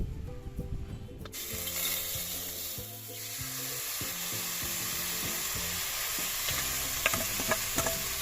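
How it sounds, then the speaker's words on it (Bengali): Snakehead fish sizzles and crackles steadily in hot mustard oil in a wok, a constant frying hiss with occasional scraping of a utensil, close and fairly loud. "এবার আমি মাখিয়ে রাখা শোল মাছটা কড়াইতে দিয়ে দেবো।"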